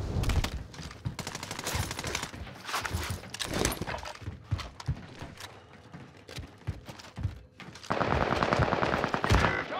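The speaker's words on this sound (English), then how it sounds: "Shoot, come on. Keep shooting." Rapid automatic gunfire in Call of Duty Warzone, dense bursts of shots crackling one after another for several seconds, close and sharp, with no talking.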